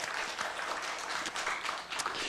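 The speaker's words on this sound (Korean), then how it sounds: "우리 하나님께 영광의 박수를 올려드립니다." A church congregation applauds during a Sunday service, with steady, even clapping that fills the short moment.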